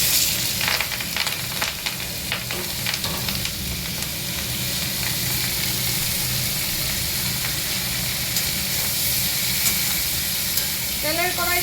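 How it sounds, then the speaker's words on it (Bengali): Onion stalks frying in hot oil in a wok, giving a loud continuous sizzle and hiss with scattered stirring scrapes and clinks throughout. "পেঁয়াজ কলিটা এখন ভেজে নেবে"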